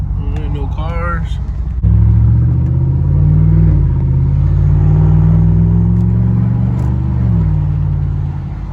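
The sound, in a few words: Cadillac Escalade engine rumble with muffler deleted, revving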